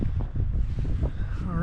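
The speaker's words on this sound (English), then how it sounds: "Wind's blowing a little bit, picked up, but it does that in this little valley." Wind blowing through a small snowy mountain valley, a loud, low buffeting rumble that batters the microphone without a break, with a voice speaking over it near the end.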